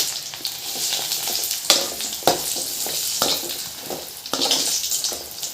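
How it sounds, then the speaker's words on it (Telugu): Buttermilk-soaked chillies frying in hot oil, a close crackling sizzle with sharp bursts and stirring scrapes recurring every second or so. "ఆయిల్ వేసి ఇట్లా వేయించుకోవాలి"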